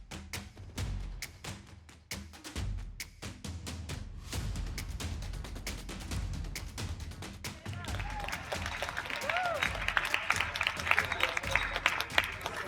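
An audience at a hackathon awards ceremony claps in a long stretch of scattered then denser applause, with sharp individual claps early and a fuller crowd wash later, a voice briefly audible beneath.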